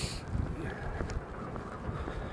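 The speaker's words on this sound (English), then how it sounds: "when you get up high, it's a lot of wind" Strong wind on a high hill rushes and buffets steadily in a continuous broadband roar, moderately loud, with no voices.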